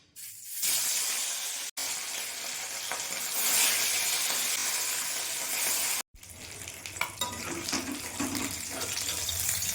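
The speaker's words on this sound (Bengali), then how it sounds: "তেল গরম হয়ে গেছে, আমি মাছগুলো এক এক করে দিয়ে দেব।" Katla fish frying in hot oil in a kadai, a loud, steady sizzle with brief breaks as pieces are added one by one, crackling close and alone without talk.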